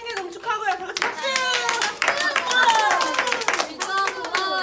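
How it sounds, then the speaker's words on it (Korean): A small group of young women claps together for a birthday celebration, a burst of lively applause mixed with cheerful talking and laughter. "다 같이 박수."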